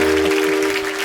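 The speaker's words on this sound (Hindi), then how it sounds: "एक बार गोविंदा सर के लिए जोरदार तालियां।" Studio audience applause greets Govinda on a comedy talk show, a brief burst of clapping blended with a steady musical tone.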